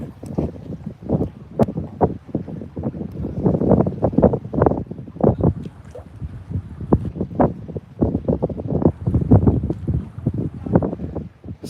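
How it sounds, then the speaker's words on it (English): Strong wind blows outdoors, buffeting the microphone in loud, irregular low rumbling gusts that come in rapid bursts throughout. "The wind's blowing so bad out here."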